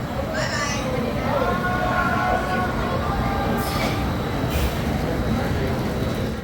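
Carolina Cyclone, an older-style steel roller coaster with corkscrews, rolls out of its station as a continuous loud rumble with brake hisses, while people talk and call out nearby.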